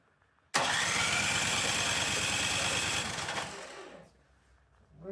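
A Husqvarna 924 HD snowblower with a no-start fault and a fuel leak fires up with a loud, rough, sputtering roar, runs unevenly for about three seconds, then dies away into quiet.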